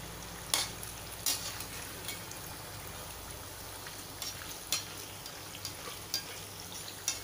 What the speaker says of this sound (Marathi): साधारण 2 मिनटं लागणार आहे आपल्याला मिरच्या तळायला.